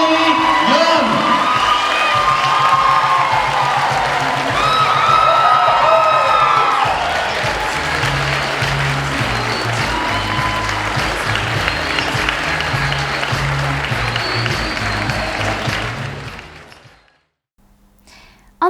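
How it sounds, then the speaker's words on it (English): A crowd at the Miss St Helena 2016 event breaks into loud, sustained applause and cheering, with whoops over steady clapping for about sixteen seconds before it fades out. "Please give a big round of applause for Miss St Helena 2016, Kimberly Young."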